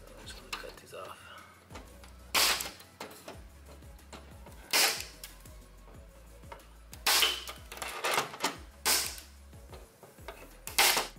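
Snips cutting metal staples out along a cracked GM dashboard, several sharp clicks spaced a few seconds apart, close and fairly loud against quiet handling noise.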